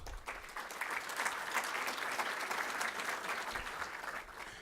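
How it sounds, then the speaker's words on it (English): A crowd claps steadily for several seconds, a dense patter of many hands that swells slightly and then tapers off. "So give yourself a big round of applause."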